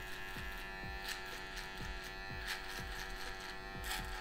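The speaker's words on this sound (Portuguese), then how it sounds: "Agora a gente vai usar a maquininha de acabamento, mano." A finishing hair clipper buzzes steadily and up close while trimming a fade low at the neckline on spiky hair. Light, regular strokes can be heard against the skin.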